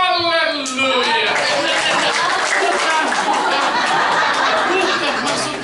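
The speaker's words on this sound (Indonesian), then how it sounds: "Mari kita sambut dengan tepuk tangan." A church congregation applauds during a Good Friday service at a Pentecostal GPdI church, a voice trailing off before dense, steady clapping fills the room for several seconds.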